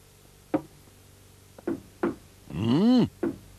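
Knocking on a door in a 1990 Moomin animated episode: several separate sharp knocks spaced over a few seconds, with a brief vocal sound between them, fairly close.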